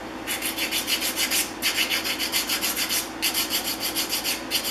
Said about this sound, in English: Now I can take my sanding stick on that machine surface,